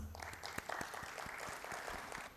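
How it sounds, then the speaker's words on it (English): A faint round of applause welcomes guests onto the stage at a leadership summit, with individual claps audible at a distance and no talking. "Please join me in welcoming them on the stage with a huge round of applause"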